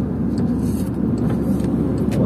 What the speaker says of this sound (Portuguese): Tem carro pra cacete